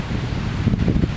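A brief, loud gust of typhoon wind buffets the microphone outdoors, a continuous roaring rush heard alone.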